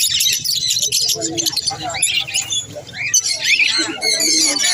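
Many foreign pet birds of mixed colours chirp and tweet together at a Serampore bird market, a dense busy chatter with voices talking over it throughout.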